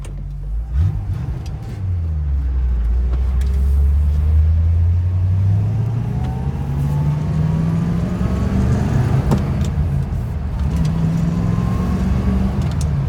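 A 1965 Corvette Coupe, burgundy, drives down the road. Its engine rumbles low and steady, rising in pitch through gear changes, heard close from inside over continuous road noise, with no talking.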